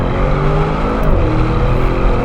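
Novitec Lamborghini Urus S Esteso widebody driving, a loud continuous engine drone with steady road noise, close and unbroken, no talk.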